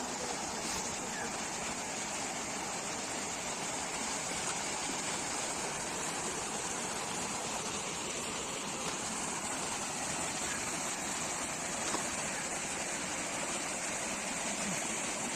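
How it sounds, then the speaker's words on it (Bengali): A waterfall cascades down beside a mountain road on the trek to Buxa Fort in the Dooars, a steady, dense rushing roar that holds unbroken throughout. "ঝর্ণার আওয়াজ খুব সুন্দর লাগছে।"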